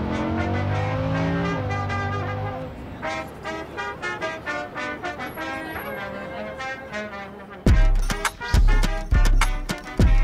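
Car engine driving, revving through gear changes with rising and falling tones, then loud bursts of acceleration near the end, close and prominent.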